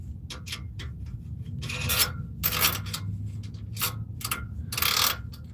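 A screw being turned down by hand on a Ford or Chevy truck part, giving short rasping, ratcheting scrapes in uneven bursts, close and fairly quiet, with no speech.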